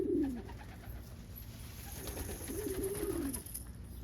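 An Indian homing pigeon, a Skipper almond cockbird, coos in low, soft rolling phrases, with a short call at the start and a longer burbling coo near the end over faint background noise.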